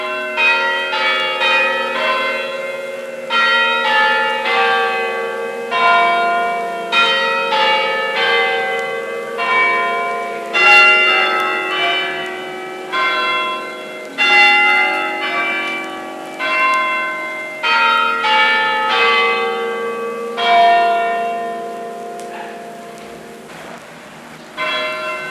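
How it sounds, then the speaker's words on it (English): A peal of eight church bells cast in England in 1744 rings in a steady, continuous cascade of overlapping strikes, loud and resonant, each stroke followed by a long ringing decay. "listen to the royal peal of those 8 bells made in 1744 in England"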